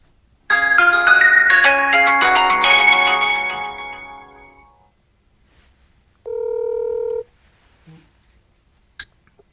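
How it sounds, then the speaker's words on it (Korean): A phone call being placed: a few seconds of bright electronic tones, fading out, then silence, then a single steady beep lasting about a second, followed by a short click. "바로 전화를 걸어 보겠습니다."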